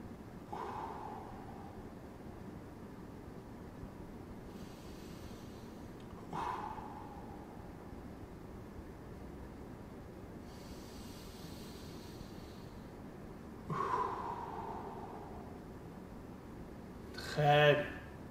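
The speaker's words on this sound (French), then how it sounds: "je suis parti pour 3 longues respirations pour redescendre un petit peu le rythme" Three long, slow breaths taken during a seated gentle exercise session, each a soft airy rush spaced several seconds apart, with a fourth stronger exhale near the end against a quiet room.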